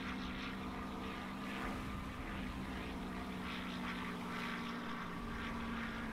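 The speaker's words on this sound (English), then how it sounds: "There's some planes coming in." In the submarine game Silent Hunter IV, approaching propeller planes make a steady, faint, broad engine drone that holds throughout with a slight rhythmic pulsing and no talk.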